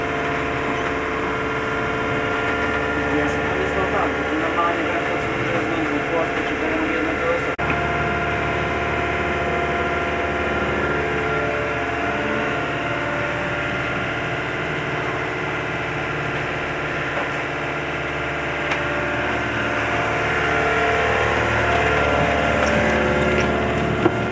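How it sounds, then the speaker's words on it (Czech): Boat engine idling with a steady low rumble and burble, a continuous throbbing drone aboard the vessel that holds throughout, with a slight shift in tone partway and no talk over it. "ještě ta brblání motoru je chyba"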